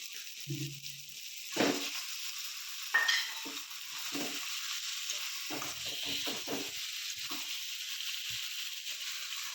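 Chicken liver fries in masala-coated oil in a pan, a soft steady sizzle broken by scraping, stirring strokes of a spoon and occasional light clinks against the cookware.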